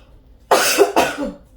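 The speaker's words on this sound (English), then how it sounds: "I'm gonna cough." Two sharp coughs in quick succession, close and loud, with near silence before and after.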